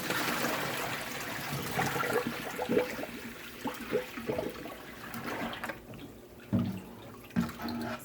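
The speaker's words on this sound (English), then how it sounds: "So I empty my basin out" Water emptied from a basin used for washing freshly dyed handspun yarn, a gurgling, draining rush, flush-like and steady at first, then thinning to sparse trickles and a few splashy drips near the end.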